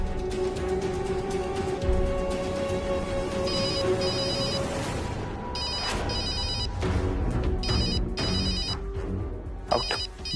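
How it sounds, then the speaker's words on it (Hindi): A mobile phone rings with an incoming call, its ringtone repeating in short electronic bursts under a busy background of music and other sound. "ये पायल को क्यों कॉल कर रही?"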